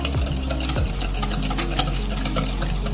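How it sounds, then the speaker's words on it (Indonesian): Pumpkin chiffon cake batter being whisked steadily in a bowl, a continuous close scraping and rhythmic stirring with faint utensil taps against the sides, no voices. "kita kocok seperti ini sampai benar-benar rata banget"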